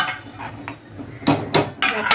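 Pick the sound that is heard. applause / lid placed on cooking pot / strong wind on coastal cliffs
lid placed on cooking pot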